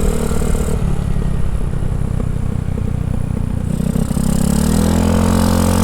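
A Honda Ruckus scooter engine runs under load while riding, a loud continuous buzzy drone with rumbling low end and shifting pitch partway through, close and alone without speech.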